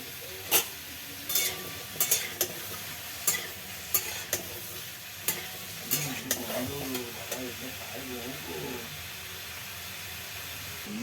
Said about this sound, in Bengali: এই যে নিম পাতাটা এটা এখন ভাজা হবে